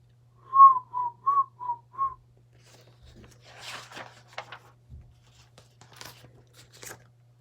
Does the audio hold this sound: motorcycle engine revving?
no